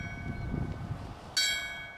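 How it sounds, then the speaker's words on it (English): A fire service bell is struck once in a memorial 5-5-5 signal, ringing out clear and bright and then decaying with a lingering metallic tone after a stretch of low rumble. "Firefighters rang the bell for what's called a 555, a traditional fire service signal known as the striking the 4 5s"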